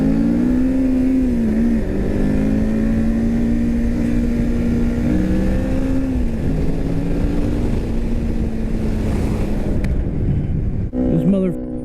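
Yamaha R3 motorcycle with a very loud exhaust droning at steady high revs while riding in traffic, the pitch holding and shifting slightly, then dropping off near the end.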